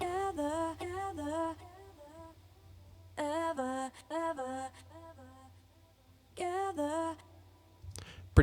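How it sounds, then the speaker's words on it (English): Layered vocal harmonies with delay throws, sung phrases in stacked parts that cut off and echo briefly into quieter gaps, over a low steady hum, ending with a sudden short bang. "I've got these kind of little delay throws with the harmonies here"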